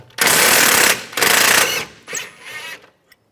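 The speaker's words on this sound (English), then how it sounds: "Now remove this bolt here. Use a 16mm socket on the bolt side, 18mm wrench on the nut." A rear control arm bolt on a 2004–2010 BMW X3 being spun out with a 16mm socket and 18mm wrench, two loud, close buzzing bursts of a power ratchet followed by a shorter, fainter third.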